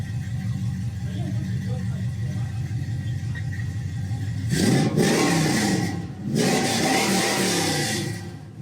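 A car with a 318 V8 idles with a steady, throaty exhaust rumble, then revs up louder around the midpoint, dips briefly, and revs again; people talk faintly nearby.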